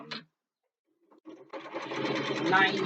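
A home sewing machine stitches fabric for a bookbag lining. A brief mechanical burst is followed by a person talking over the machine.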